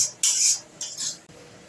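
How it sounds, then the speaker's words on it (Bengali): Matar dal is stirred in a pan as its water cooks off. Three quick, close scraping strokes of a utensil against the pan sound with no speech. "জলটা শুকনো পর্যন্ত আমি এটাকে একটু নাড়তে থাকবো"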